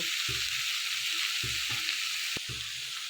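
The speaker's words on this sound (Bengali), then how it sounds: "এবার এই সবজিগুলো একটু তেলের মধ্যে নেড়ে চেড়ে নেব" Vegetables frying in oil for egg chowmein, a steady hiss of sizzling with a few bursts of stirring and scraping in the pan, close and alone.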